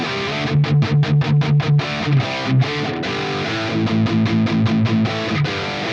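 Electric guitar through the ML Sound Labs AMPED Flagship amp sim on its default setting, a distorted tone playing a choppy riff of short repeated palm-muted chugs, then ringing chords and another burst of quick stabs, loud and upfront.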